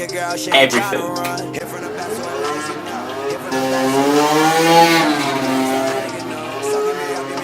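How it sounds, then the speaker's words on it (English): A moped engine buzzes past, its whine rising and then falling away as it goes by, with a voice talking over it. "Getting real sick of that motorbike that keeps going up and down"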